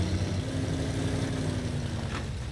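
Engine of a Delta pick-up truck in SnowRunner idles with a steady low rumble, a constant mid-level drone heard alone without voices.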